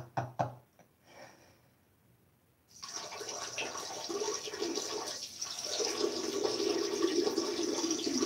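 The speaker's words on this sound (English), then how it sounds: "This is the sound of my piss." A man urinates into a toilet: a few knocks and a quiet pause, then a steady hissing splash of liquid into water that runs on continuously and grows slightly louder.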